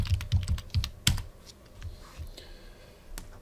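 Typing on a computer keyboard, a quick run of close, crisp key clicks that thins out to a few scattered taps, with no talking.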